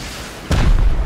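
A rocket explosion in the video game Rust: after a half-second lull comes one sudden, loud, deep boom that rumbles on to the end.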